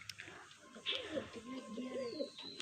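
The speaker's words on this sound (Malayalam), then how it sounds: "പ്രാവുകൾ കൂട്ട് കയറുന്നു." Pigeons entering their coop give soft, rolling coos close by, a short series of warbling calls over about two seconds against a quiet background.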